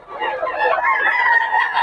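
Roosters at a chicken market in Bocaue call loudly and continuously up close, a steady stretch of overlapping crowing and clucking with no pause.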